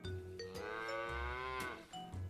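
A cow moos in a long, loud, drawn-out call that rises and holds, followed by a shorter low grunt, close by and alone with no voices.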